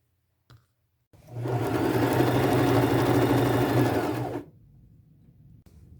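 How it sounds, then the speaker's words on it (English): A sewing machine runs a black zigzag stitch in one steady, close burst of about three seconds, starting abruptly and stopping cleanly, with near silence before and after. "I will take it to my machine and I'll do a black zigzag stitch."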